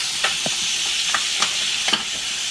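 A steak in a frying pan sizzles with a loud, steady hiss close by, broken by a few sharp crackles and pops.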